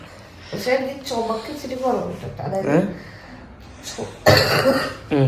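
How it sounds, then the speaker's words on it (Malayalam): A person coughs in a hospital ward: one harsh, noisy burst near the end, preceded by stretches of voiced, throaty sounds. "ഓ ഭയങ്കര ചുമ വരുന്നുണ്ട്"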